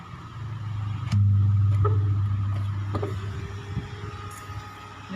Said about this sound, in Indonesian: Ini untuk suara bersih dulur ya, hanya suara kipas.